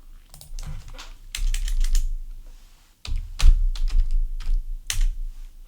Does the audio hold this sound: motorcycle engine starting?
no